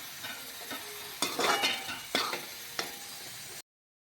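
Spinach and beaten egg stirred and fried in a pan, a steady sizzle broken by several sharp spatula scrapes and stirring bursts, close and moderately loud, no voices.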